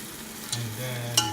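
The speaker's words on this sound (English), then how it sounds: "Give it a good stir." Stirring beef nilaga in a pot, a short soft scrape and swish of a spoon through broth with a faint simmer underneath, close and quiet with no talking.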